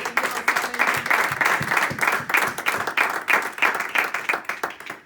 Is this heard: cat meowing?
no